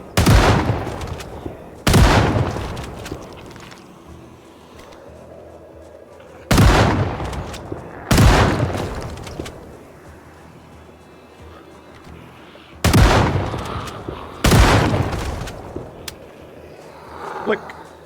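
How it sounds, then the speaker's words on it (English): Six loud shotgun blasts ring out in pairs during zombie-survival gameplay in Project Zomboid, each sharp boom trailing off into a rumbling decay, with quieter game ambience between the pairs. "Didn't I tell you shotguns were a terrible idea?"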